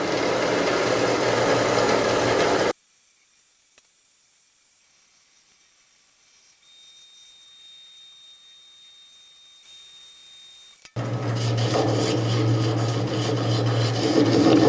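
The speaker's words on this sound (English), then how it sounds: "I'm going to put some Hampshire sheen finish on the inside and outside now before I take it off." Hampshire Sheen finish rubbed onto a birdseye maple bowl spinning on a wood lathe: a close, steady rasping rub at the start, then a long near-silent stretch with faint tones, before the rasping rub returns loudly.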